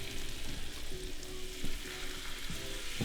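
A fluke fillet frying in a pan for piccata, a soft continuous sizzle with faint crackles and the occasional scrape of stirring, quiet and close.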